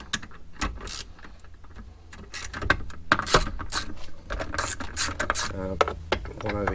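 A ratchet with a 10mm socket on a long extension working airbox bolts in a car engine bay, rapid metallic clicking bursts close by, with a voice talking over part of it.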